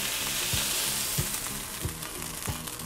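Chicken browning in a non-stick frying pan makes a constant, close sizzle, with a soft, regular tap or scrape roughly every two-thirds of a second.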